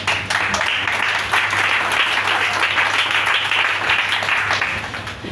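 A church congregation claps and applauds together in a dense, steady wash of hand claps that holds loud for about five seconds before easing slightly at the end, with no clear speech over it.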